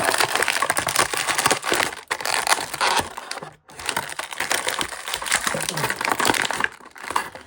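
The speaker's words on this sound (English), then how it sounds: "Now this packaging, or plastic shell, if you will, is a bit harder than you would think" Stiff plastic shell packaging of a Ghostbusters toy four-pack being pried and cracked open by hand, loud close crunching and crinkling in bursts with brief pauses between.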